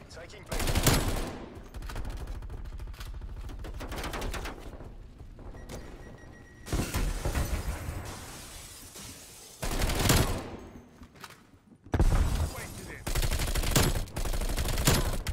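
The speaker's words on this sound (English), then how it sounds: "Why are you shooting at me?" Gunfire in a Call of Duty match: repeated bursts of rapid automatic fire, loud and close, separated by quieter gaps, with a player's voice speaking at points under the game sounds.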